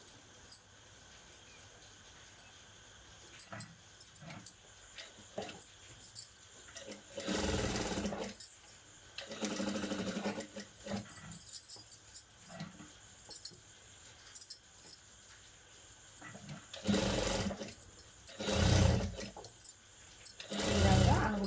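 A sewing machine stitches a back-open blouse in short runs. Bursts of mechanical whirring come close by, separated by quieter pauses, with some faint handling noise between them.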